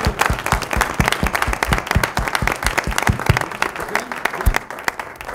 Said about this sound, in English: If everyone can give them a round of applause.